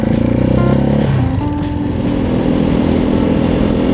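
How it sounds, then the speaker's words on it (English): A Janus Halcyon 250 motorcycle rides through the Massachusetts countryside, its engine a loud, steady drone that shifts pitch slightly as it runs, with wind noise and no talking. "I'm riding my Janus Halcyon 250."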